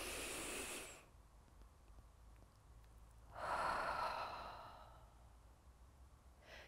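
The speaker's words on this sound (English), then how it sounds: "we're going to breathe in through our nose and out through our mouth" Slow, deep breathing for a children's calming exercise: an audible exhale, a quiet pause, then a longer breath through the nose and out through the mouth, close and soft.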